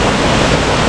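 Uma Anyar waterfall in Bali roars in a loud, unbroken wash of falling water, heard up close and alone.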